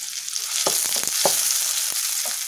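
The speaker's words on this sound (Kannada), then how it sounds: "ಈರುಳ್ಳಿ ಸ್ವಲ್ಪ ಫ್ರೈ ಮಾಡ್ಕೊಳ್ಳೋಣ" Chopped onions frying in hot oil, a steady close sizzle with a few crisp pops and spatula scrapes scattered through it, no voices.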